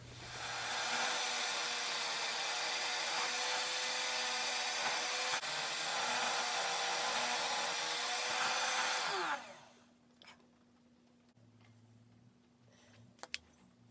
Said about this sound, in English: we'll do it on the drill press